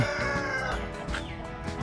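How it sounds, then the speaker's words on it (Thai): Chickens roosting in a tree in rural Thailand cluck close and loud, a quick run of short clucks with no talk over them. "ไก่นะครับนี่คือไก่"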